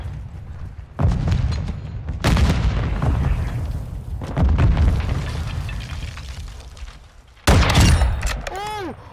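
Several heavy booming sniper rifle shots in Call of Duty: Modern Warfare, each with a loud crack and rumbling tail, spaced a couple of seconds apart.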